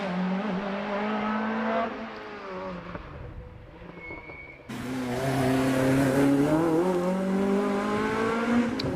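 An early 2-litre Renault Clio 172 at the Prescott hill climb revs hard and close, with the engine note rising through the gears. It fades briefly, then returns louder as the car passes.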